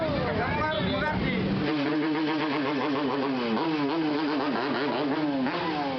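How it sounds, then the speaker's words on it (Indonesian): Several motorcycle engines rev and drone together, loud and continuous, their pitch rising and falling as the convoy rolls past. "arak-arakan dengan motor bising"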